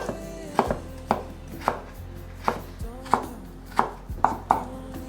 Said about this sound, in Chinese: 把山藥切成細絲